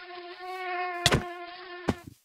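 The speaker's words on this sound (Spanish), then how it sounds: "Ahí está, una mosca es el culpable." A housefly buzzes steadily and close for about two seconds in a game livestream, its whine holding a tone with harmonics, interrupted by two sharp thuds.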